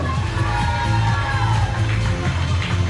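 A crowd at a Miss Côte-d'Opale 2023 pageant at Le Touquet-Paris-Plage claps and cheers in a steady, dense roar of applause with scattered whoops, loud and continuous throughout.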